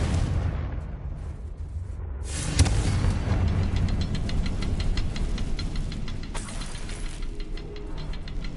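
Confringo blasting curse from a Harry Potter video game, a sudden explosive boom followed by a rumbling, crackling blast that fades into a sustained roar with a second burst later.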